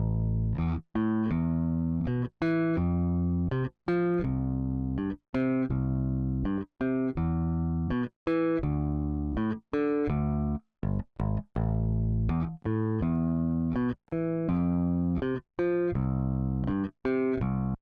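Electric bass played through a Heritage Audio 1073-style HA73EQ preamp, a steady run of plucked notes in a regular rhythm with brief gaps between phrases, loud and close with no talking.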